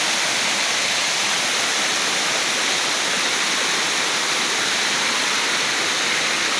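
Yaganak Falls waterfall pours in a dense, continuous roar of rushing water, loud and close, steady and unbroken, with no voices.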